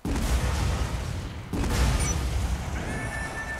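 Rocket blasts from the video game Lost Planet 2, two loud booming explosions about a second and a half apart, each followed by a rumbling, crackling tail that fades into a high electronic tone.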